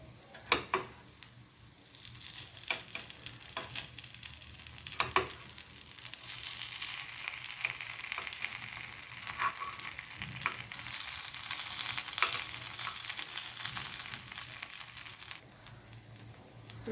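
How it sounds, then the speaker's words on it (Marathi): Sweetcorn appe batter sizzles steadily in an appe pan mould on the stove, a continuous crackling fry with a few sharper pops and scrapes near the start, close and alone with no talking. "आणि हे दोन्ही बाजूने आपल्याला छान शेकून घ्यायचे आहेत आप्पे"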